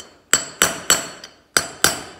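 Hammer blows drive a wheel bearing race into the front wheel hub of a Jeep CJ5, five sharp metallic strikes plus one lighter tap in a steady rhythm, close and loud with ringing decay.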